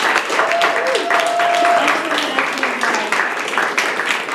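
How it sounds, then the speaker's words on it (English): Audience at a monthly storytelling show giving a round of applause, a steady wash of clapping heard alongside a voice. "Can we get one more round of applause for all of our storytellers?"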